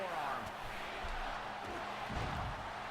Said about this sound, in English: You can hear the crowd in the background.